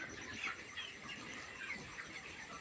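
A crowd of broiler chickens fills a poultry farm shed with a dense, continuous murmur of soft clucks and chirps, steady and moderately faint throughout.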